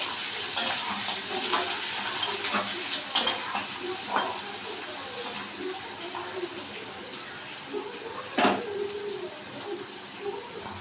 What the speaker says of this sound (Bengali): এবার আস্তে আস্তে কমিয়ে কমিয়ে এটা কষাবো।